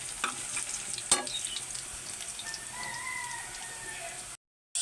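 Tomato drops into a hot pan for an egg-tomato curry, a sharp splash of sizzling followed by steady frying and stirring scrapes, close up, before the sound cuts off abruptly near the end.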